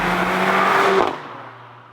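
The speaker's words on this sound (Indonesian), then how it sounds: "mesin mobil ini masih memiliki suara yang tetap bisa terdengar dan disertai dengan letupan-letupan pada saat melakukan perpindahan gigi" A 2016 Mercedes-AMG GLA 45 crossover engine revs loudly under acceleration, then cuts off abruptly at a gear shift with a crackling pop before the sound drops to a low idle-like drone.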